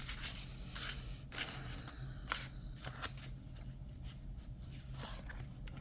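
Tarot cards being shuffled for a reading, quiet repeated riffles and flicks spaced about a second apart, soft and close with a faint background hum.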